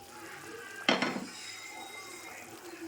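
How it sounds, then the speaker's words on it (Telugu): Washed basmati rice tipped into a pot of boiling water gives one sudden splash and rattle that fades over half a second, set against a quiet kitchen background. "ఈ వాష్ చేసి పెట్టుకున్న బాస్మతి రైస్ ఇందులో యాడ్ చేసేసుకున్నాము."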